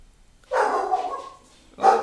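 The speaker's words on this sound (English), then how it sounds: "Oh, there's the Barky Dog." A dog gives two short, close barks about a second apart, the first slightly drawn out, with quiet in between.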